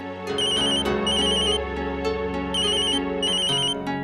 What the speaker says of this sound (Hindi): सुनील का फोन है, एक मिनट